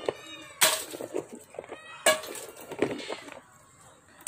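Cats meowing at a crowded shelter housing a few hundred cats, several loud, drawn-out cries a second or so apart, close by and mixed with sharp knocks and rustling.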